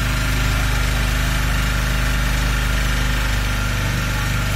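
A boat engine on a narrow waterway in Kerala runs loud and close with a steady throbbing rumble, unbroken and without talk.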